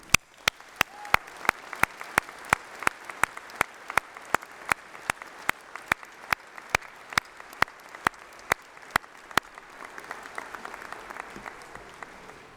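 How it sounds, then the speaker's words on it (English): Graduation ceremony audience applauding in a hall, dense sustained clapping from a large crowd with sharp periodic claps standing out in a regular beat, fading toward the end. "please join me in a massive round of applause for all those special people"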